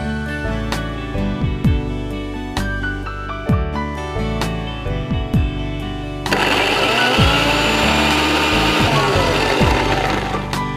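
Blender grinding spinach, coming in about halfway through as a loud steady whirring roar that sits over background music and continues to the end.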